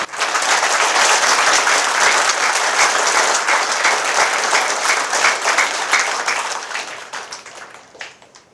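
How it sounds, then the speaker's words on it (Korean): An audience at a Korean book launch event breaks into sustained applause of welcome, dense and loud clapping filling the room for several seconds before thinning and fading out at the end. "우리 다 같이 한번 기쁨을 환영의 박수 한번 올립시다."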